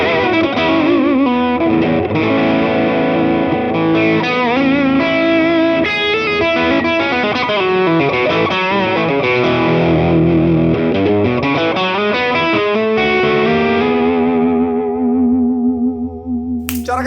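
Electric guitar driven through a Brown Amplification Carbon X dual overdrive pedal, playing a loud, continuous run of distorted, sustained notes and bends for about fifteen seconds before fading out, with no voices.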